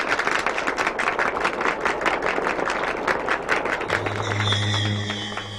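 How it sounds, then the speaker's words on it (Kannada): An audience claps steadily on stage as a bicycle prize is handed out at a Kannada event. Dense, continuous applause fills the space, and near the end a sustained musical tone rises beneath the fading clapping. "ಹೊಡೀರಿ ಎಲ್ಲ ಚಪ್ಪಾಳೆ."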